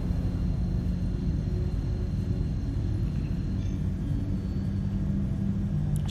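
Star Citizen quantum drive spooling up aboard a spaceship, heard as a steady, dense low rumble with a faint airy hiss above, constant and unbroken without any talk.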